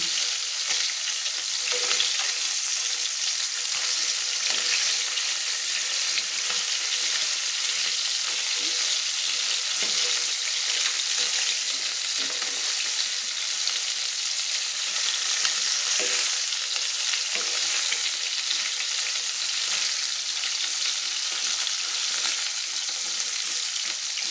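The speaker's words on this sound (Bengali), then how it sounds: "এবার আমি আস্তে আস্তে করে মাছগুলো উল্টে নিচ্ছি" Chang fish frying steadily in hot oil in a pan, a continuous bright sizzle with occasional soft crackles and stirring clatter as the pieces are turned over, close and even throughout with no talk.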